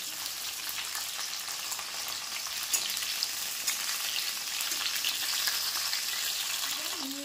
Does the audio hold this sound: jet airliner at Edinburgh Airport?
no